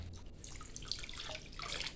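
Hydroponic nutrient solution, part B fertiliser drawn up in a syringe, pours into a container of water, giving a soft, steady trickle and splash at low volume, alone.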